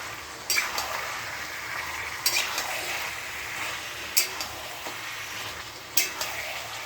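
Meat sizzles steadily in a hot pan with garlic and green chilli paste, with several sharp spoon scrapes and clanks at intervals as it is stirred and fried, close and moderately loud.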